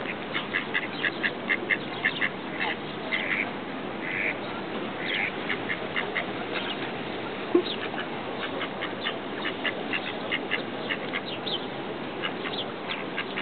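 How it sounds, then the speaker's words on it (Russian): A duck quacking at Lake Garda, giving a long run of quick repeated quacks in bursts over a steady background wash, fairly close and without speech. "Цирковой утка."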